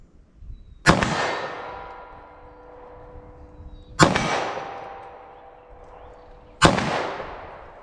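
Three sharp gunshots from a subcompact 9mm pistol fired at a target, spaced a few seconds apart, each ringing out into a long decaying echo at a range.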